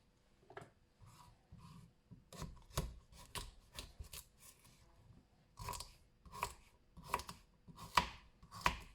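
Knife chopping root vegetables coarsely on a cutting board for a raw blended soup, producing a series of crisp, irregular crunchy chops close up, getting louder and more regular toward the end, with no talking.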